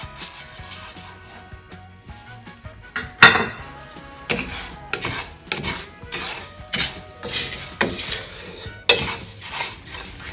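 Turmeric, nutmeg and cumin dry-roasting in a pan for homemade curry powder, with repeated close metal spatula scrapes and clanks against the pan over a faint sizzle, no talking.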